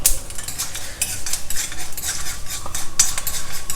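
Peanuts, dry red chilies and urad dal roast in a pan with mustard seeds as a utensil stirs them, giving repeated scraping and rattling clinks over a faint sizzle, close and steady.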